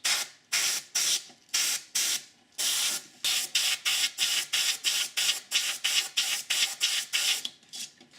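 Bursts of paint spraying from a spray gun, a steady series of hissing blasts, close and loud, with short pauses between each pass.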